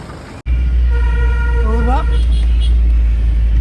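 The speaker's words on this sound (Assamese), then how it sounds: "কি গাড়ী চলাই আহে" Vehicle on a winding mountain road on the trek route to Kedarnath, with a constant low engine drone and a rising, wavering horn or siren-like tone sounding briefly mid-clip as people talk nearby.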